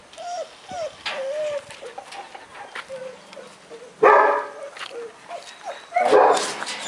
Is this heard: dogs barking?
yes